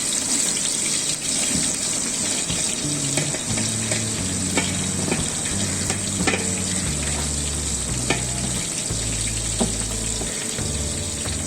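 Loud, steady sizzling of chopped onions frying in hot oil, with occasional scraping and stirring clatter over the crackle.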